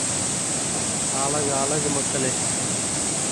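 Steady broadband roar of water cascading at Kerala Gundu falls, a waterfall that has carved a round rock basin, continuous and loud throughout, with a brief spoken voice over the rush.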